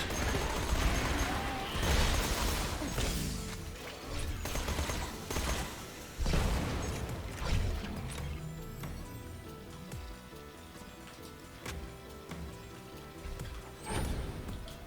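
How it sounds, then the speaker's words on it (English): A flame SMG firing in Borderlands 2 in close bursts. Short loud volleys recur every couple of seconds over game effects and sound. "I'll switch back to the flame SMG for the stalkers."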